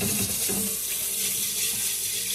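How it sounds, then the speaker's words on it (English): A pan rinsed under a running kitchen tap, a steady close hiss of splashing water that fills the whole moment, with no talking. "use this to wash your pan off of all the goop that may be around it"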